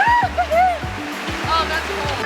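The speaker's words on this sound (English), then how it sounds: "And now we shower in the river." Steady rushing river water pours and splashes nearby, a loud continuous flow while people talk over it.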